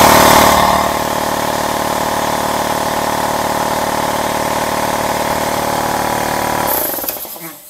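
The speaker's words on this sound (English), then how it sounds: "And let's hit that air compressor again." An air compressor runs steadily and loudly close by, a dense continuous mechanical hum and rattle that holds level for several seconds, then winds down and cuts off near the end, with no talk.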